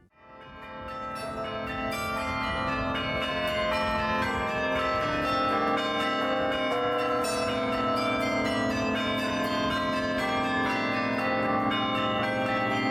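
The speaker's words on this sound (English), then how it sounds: "Bringing you only the best bell tower tunes here." Carillon bells in a Bruges bell tower ring out a melodic tune, overlapping resonant chimes sustaining and blending continuously, loud and full with no talking.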